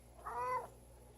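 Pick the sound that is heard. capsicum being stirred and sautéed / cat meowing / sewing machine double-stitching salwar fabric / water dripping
cat meowing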